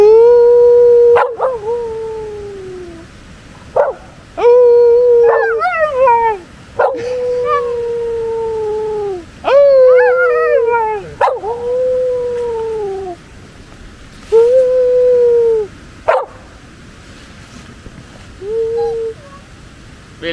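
Samoyed dogs howl in long, wavering, drawn-out cries broken by brief yips, loud and close, several overlapping howls over about twenty seconds outdoors near a waterfall in autumn.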